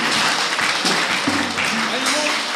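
Audience applause at a poetry colloquium honouring a renowned poet, dense clapping filling the room while a voice talks over it, loud and steady.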